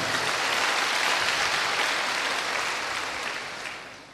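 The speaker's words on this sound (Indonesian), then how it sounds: "Oke, tepuk tangannya paling meriah buat Allah kita." A church congregation bursts into lively applause, a dense hiss of many hands clapping that holds for a few seconds and then fades away.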